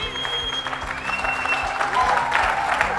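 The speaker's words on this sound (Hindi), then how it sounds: "एक बार टीम एकेसी के लिए जोरदार तालियां और रूटिंग हो जाए।" Dense, continuous clapping from a large audience cheering Team AKC at a Vestige Success Fest event, loud and sustained for the whole stretch with a steady musical tone running underneath.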